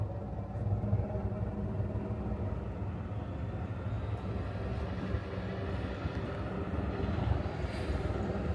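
A Ford Excursion with a 7.3 diesel engine pulling up nearby, a steady low rumble that holds evenly throughout with no talking.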